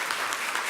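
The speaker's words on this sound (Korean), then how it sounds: "여러분 국회의장님께 다시 한번 큰 박수 부탁드리겠습니다." A brief burst of dense audience applause at a national finance forum held by the Korean National Assembly Budget Office, greeting the Speaker of the National Assembly; many hands clap loudly, with no voices on top.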